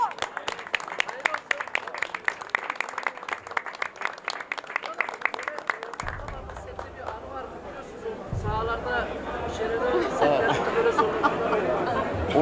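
An audience applauds steadily at an event promoting the Turkish film 'Soygun Oyunu', the dense clapping thinning partway through as crowd chatter and voices rise underneath.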